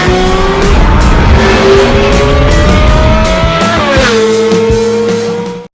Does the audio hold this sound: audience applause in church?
no